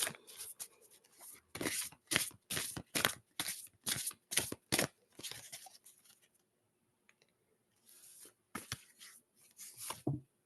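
Oracle cards being shuffled and pulled from a deck: quick bursts of crisp riffling and sliding close by, a quiet pause, then a few more shuffles near the end.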